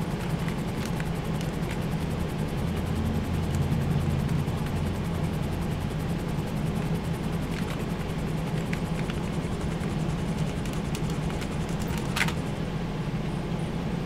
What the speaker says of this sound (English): How about the only helicopter I have?